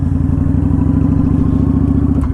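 A Kawasaki Vulcan motorcycle engine runs in first gear with a loud, close, low throbbing idle and a steady pulsing beat, without any clear gear change or talk.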